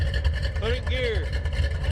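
A 1984 Ford Mustang GT350 Fox-body with a limited-slip rear end runs in gear on a lift, its engine a steady low drone as the rear wheel turns, with a whining pitch that rises and falls while people talk nearby.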